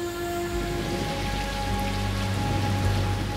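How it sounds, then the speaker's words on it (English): Heavy rain pounding down during a freak storm in Las Vegas, a dense, steady, loud wash of drops on surfaces with a low rumble underneath and no talk. "freak rains beat down on Las Vegas"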